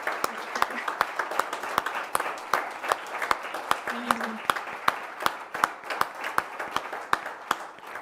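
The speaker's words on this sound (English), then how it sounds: "An applause," Sparse, steady claps from an online audience at the inauguration of an EEG master's program, sounding like a few people clapping in an even rhythm over a faint background hiss.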